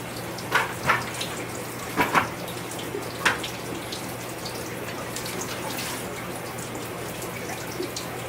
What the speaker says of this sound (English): You can see the water pouring down here.